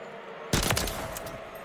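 A shooter video game gun fires one loud, sharp burst that sounds like two rapid shots in quick succession, followed by a short decaying tail over a quiet background.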